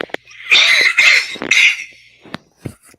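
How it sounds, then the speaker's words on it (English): Several harsh coughs close by, a burst of rapid hacking coughs early on, then a few single coughs spaced out with short pauses between. "Oh, still coughing like crazy."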